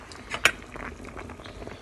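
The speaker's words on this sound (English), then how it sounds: "I just cut the red cabbage into pieces and it is boiling" Red cabbage pieces bubble in a pot of boiling water, a low continuous simmering texture with a brief metallic clink near the start.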